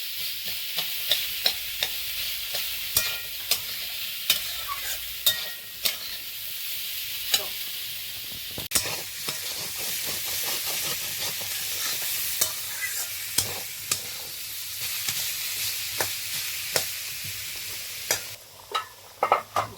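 Raw banana peel paste with chillies fries and is stirred in a pan, a steady sizzle running under repeated scraping stirs and utensil taps, close and continuous with no talking.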